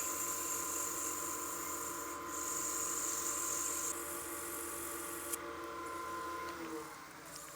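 Finer-grit sandpaper against a wooden wine glass turning on a lathe, a continuous close hiss and rasp under the steady machine hum, with no speech.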